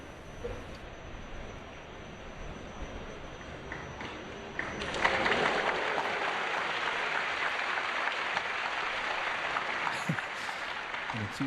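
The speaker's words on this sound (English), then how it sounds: "Enthusiastically applauded one at that." Audience applause at a snooker match in Shanghai, a soft patter that swells into sustained, even clapping partway through and continues to the end, moderately distant.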